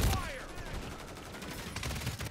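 Gunfire in a first-person shooter match, rapid bursts of shots in a dense, steady barrage with a strong report at the start and clustered pops near the end, fairly close.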